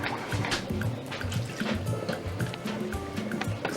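Blended vegetables, including tomato and plum bits, pour into a soup pot for palmnut and peanut soup, making thick liquid glugs and splashes in an uneven stream, close and fairly loud.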